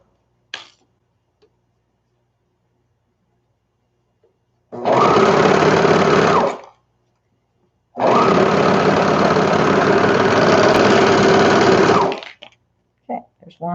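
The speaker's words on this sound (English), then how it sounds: "Your serger is just going to cut through it like a hot knife in butter" A serger sewing machine stitches through a thick fabric seam on baby bummies in two loud, steady motor bursts of about two and four seconds, separated by quiet, with a few faint clicks around them.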